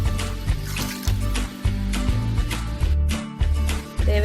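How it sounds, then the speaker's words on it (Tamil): Water is poured steadily into a pot of horse gram rasam made with tamarind and tomato, producing a continuous trickling, splashing flow heard close up with no talking. "இப்போ தேவைக்கேற்ப தண்ணி ஊற்றிக்கோங்க."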